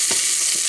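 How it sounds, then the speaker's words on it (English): Sliced spring onions fry in a frying pan for a stir fry, giving a loud, continuous hiss and sizzle, close up, with two soft low bumps from stirring and no speech. "And now I'm just popping this into the frying pan like so."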